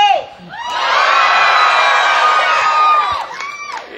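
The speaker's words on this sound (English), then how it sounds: "People scream, cheer, shout, make lots of noise." A live crowd at a fire-eating street show screams, cheers and whoops loudly on cue, the roar swelling in after a moment, holding steady, then breaking into scattered shouts and yells near the end.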